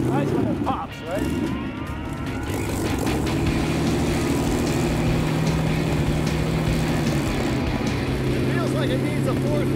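Custom boat tail car built from a firetruck rumbles with a deep, steady exhaust drone, loud and close, with crackles and wind buffeting, as from inside or beside the moving vehicle.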